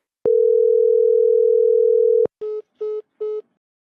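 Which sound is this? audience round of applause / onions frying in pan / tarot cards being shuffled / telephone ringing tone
telephone ringing tone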